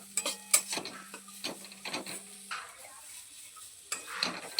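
Dates being stirred in a pan until soft: a run of short, close scraping and tapping strokes of a spatula against the pan, faint sizzle between them, then a brief pause before more stirring.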